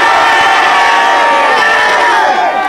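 A crowd at a street knockout contest in Baltimore cheers and shouts loudly to vote for a fighter, a dense sustained roar of voices and whoops from nearby.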